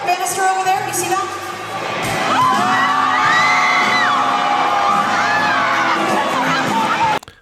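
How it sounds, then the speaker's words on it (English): A crowd at a live event with a band cheers and whoops loudly, a sustained roar of voices with high whistling whoops swelling over several seconds before cutting off abruptly. "Everyone's cheering, having a good laugh."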